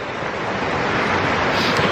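A mountain stream rushes steadily through a rocky gorge in the Tatra Mountains, a close, loud, continuous broadband wash of flowing water with no talking.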